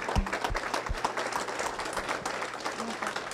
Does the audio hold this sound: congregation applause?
yes